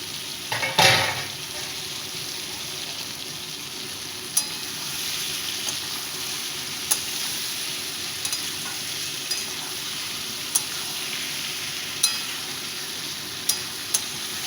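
Lote fish (Bombay duck) drops into a spice paste with a sudden loud hiss, then fries with a steady, close sizzle punctuated by occasional sharp clinks of utensils.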